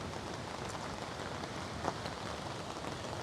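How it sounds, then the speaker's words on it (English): Heavy wind-driven rain drums on a tarp at a creekside campsite during a severe storm, a steady dense patter throughout with one brief sharper spatter near the end and no voices. "In a perfect world, rain would fall straight down, but not today."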